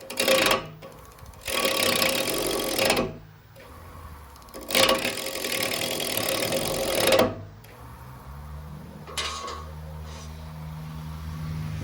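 A bowl gouge cutting a wooden bowl spinning on a lathe, giving loud, rough, broadband tearing bursts a few seconds long with short pauses between them, and a lower motor hum underneath.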